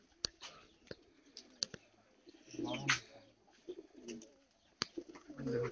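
Domestic pigeons kept by a pigeon fancier coo in soft, low rolling calls, mixed with wing flaps and sharp clicks nearby, while a voice murmurs in the background.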